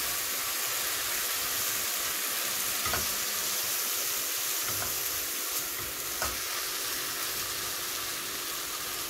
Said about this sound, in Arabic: هنزل عليها على طول بالرز بعد الشعريه ما اتحمرت. هخلي الرز ياخد معايا كده ايه تسويحه بس